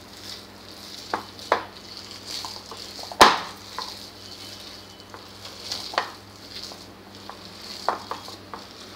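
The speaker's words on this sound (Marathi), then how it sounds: "आपला सोडा राहिला आहे तो घालायचा आहे आणि परत एकदा छान मिक्स करून घ्यायचं आहे" Suran vada batter is stirred after soda is added, with close, irregular wet scraping and clicks against the bowl and one sharper knock partway through, over a faint background hum.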